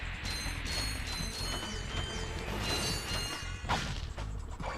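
Bolts scatter and get scooped up in Ratchet & Clank (2002), a busy stream of metallic clinks, ratcheting clicks and swishes over low rumbling game effects, close and steady.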